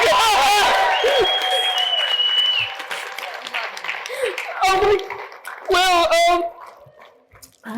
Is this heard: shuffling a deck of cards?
no